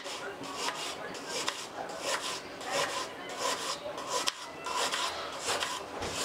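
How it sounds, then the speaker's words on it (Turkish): A dry onion is diced into cubes on a board in a home kitchen, the knife tapping in a quick steady rhythm, faint and close. "Bir adet kuru soğanımızı önce küp küp doğruyoruz."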